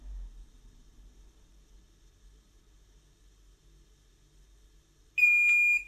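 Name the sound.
heat press timer beeping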